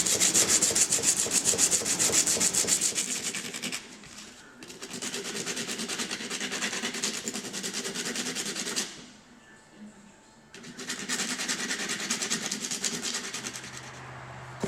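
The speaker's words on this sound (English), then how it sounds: "We're going to lay our sandpaper right on the block of wood" Small metal part rubbed back and forth on 120-grit sandpaper laid over a wooden block, a steady close-up scratchy abrasion in long continuous passes that briefly pause around ten seconds before resuming.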